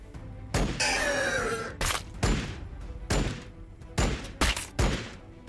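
Gunfire from the Warhammer 40k Battlesector video game comes as a sustained burst followed by several heavy, booming shots in an uneven rhythm, loud and close.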